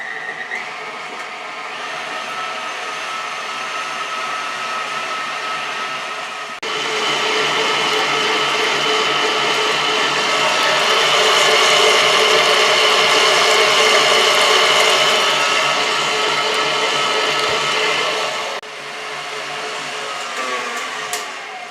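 An electric mixer beats butter and eggs for a keto chocolate cake, giving a steady loud whirring drone that grows stronger partway through and drops back near the end.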